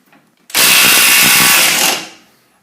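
A Makita DTW281Z (XTW02Z) half-inch cordless impact wrench runs a single loud, sustained burst of hammering for about a second and a half, then stops. A faint noise comes just before it.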